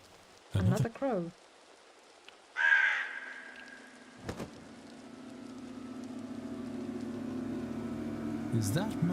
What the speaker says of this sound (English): Another crow.